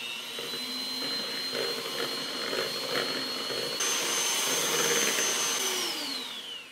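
An electric mixer beating passion fruit mousse ingredients, a close, loud steady motor whine that shifts pitch midway as the speed changes, then winds down at the end.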